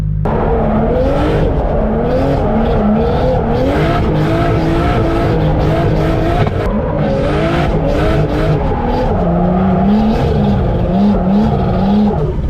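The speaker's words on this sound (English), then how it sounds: "let's get back out there and just burn some tires off" A car does a burnout on slightly bigger tires at lower pressure, the engine roaring and rising and falling in pitch as the tires squeal. The sound is loud, close and unbroken throughout.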